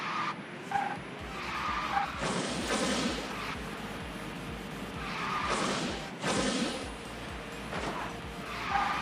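A car drifts in the racing game Speed Drifters, its tires squealing in long skids that rise and fade repeatedly over a continuous engine whine, with several sharp bursts of screeching through the run.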